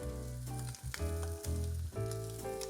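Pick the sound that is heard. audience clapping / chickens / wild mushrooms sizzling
wild mushrooms sizzling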